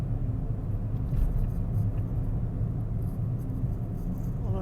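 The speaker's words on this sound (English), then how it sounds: "So we drive through Enniskillen" A car drives along a road through Enniskillen, heard from inside as a steady, close, low rumble of engine and tyres that holds evenly throughout with no talking.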